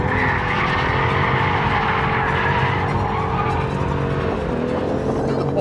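A BMW M2 CS drifts with its tires sliding, the engine droning loud and steady close by while tire noise hisses over it, with no voices.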